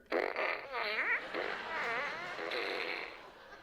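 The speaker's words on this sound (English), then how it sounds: "it was a gun, but when you squeezed the trigger, fart sounds came out" A toy gun that blasts fart sound effects when its trigger is squeezed, fired in a nursing home. It gives a loud, buzzy, warbling blurt lasting a few seconds, with wobbling pitch rising and falling.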